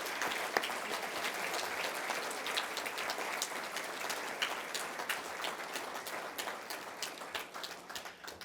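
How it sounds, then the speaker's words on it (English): An event audience claps for frontline healthcare heroes at an anniversary celebration, a steady, dense round of applause that thins toward the end into scattered, sharper individual claps. "Let's give them all a big round of applause."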